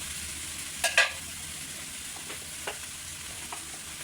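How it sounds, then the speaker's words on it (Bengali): Potatoes and dried loitta fish fry with cumin in a pan, a steady low sizzle running throughout, broken by a couple of sharp stirring scrapes near the start and lighter ones later. "আর একটু ভাজা ভাজা করে নেবো"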